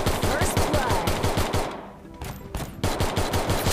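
A USP pistol fires in the mobile shooter game Free Fire. Rapid, loud shots come in a fast, even rhythm, break off briefly, then resume.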